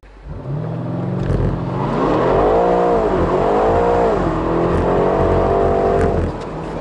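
A BMW M8 Competition with traction control off, in two-wheel drive and sport mode, revs hard while spinning its rear wheels, the engine note loud and close as it climbs, dips and climbs again before cutting off.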